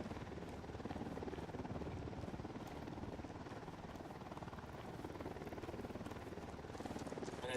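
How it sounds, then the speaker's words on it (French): An Unidad helicopter in Ghost Recon Wildlands drones on steadily with a continuous rotor thrum and broadband engine wash, loud and unbroken throughout, with only faint other game noise beneath. "Un hélico de l'unidad"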